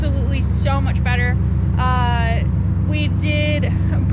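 A Ford Mustang with the exhaust cut off and turndowns under the middle of the car idles steadily and loudly, a deep rumble running throughout, while a voice talks over it.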